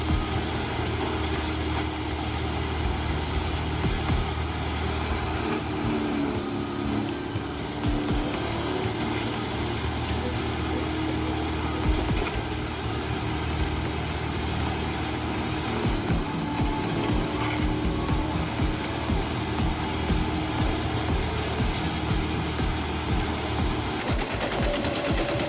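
A wood grinder driven by a John Deere PowerTech 8.1-liter engine runs at a steady, loud drone with a constant mechanical whine throughout, ending with a slight shift in tone near the end.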